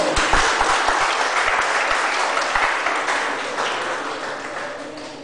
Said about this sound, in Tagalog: Pumalakpak kayo.